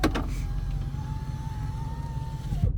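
An old, loud car drones steadily from inside the cabin, a constant low rumble with a thin whining tone running over it, ending with a brief clunk.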